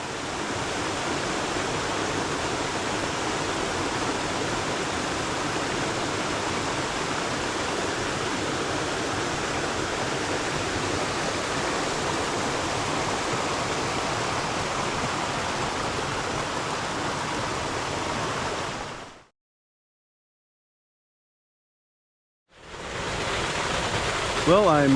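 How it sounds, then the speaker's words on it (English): Loud, steady roar of Raven Falls waterfall, a dense unbroken rush of water close by that fills the clip for about nineteen seconds, cuts to silence, then returns at the end. "I'm pretty sure I have to talk really loud for you to hear me over the roar of the water here."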